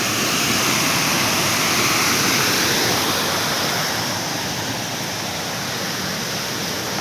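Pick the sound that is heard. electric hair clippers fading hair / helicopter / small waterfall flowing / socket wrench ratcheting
small waterfall flowing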